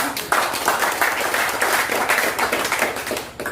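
An audience claps together at an Indonesian Independence Day school assembly, a steady patter of hands filling the room, fairly close and dense, continuing without pause for several seconds.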